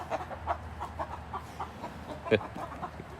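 Chickens in a backyard coop at bedtime cluck softly and repeatedly in an irregular rhythm, with one louder squawk near the end, all over low background rumble.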